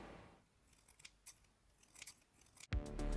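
Scissors snip fabric while face masks are made, a few soft close cuts at uneven intervals, then a louder clunk and hum near the end.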